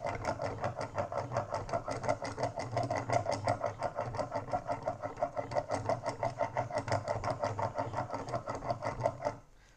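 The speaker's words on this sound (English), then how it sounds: "I'm going to do 30 strokes at each end of the stone" A steel chisel is rubbed back and forth on a 4000 grit sharpening stone, giving a close, fast, regular scraping rhythm of repeated strokes that stops abruptly at the end.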